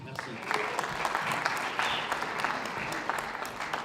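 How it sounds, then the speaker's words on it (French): An audience in a hall at a civic event applauds steadily, a dense, even patter of many hands clapping at moderate distance. "Je vous demande de l'applaudir"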